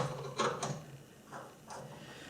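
An adjustable wrench's jaw is adjusted to the width of a Jacobs taper in a workshop: a few short, close metallic clicks and ratcheting scrapes in quick succession, then fainter follow-up turns.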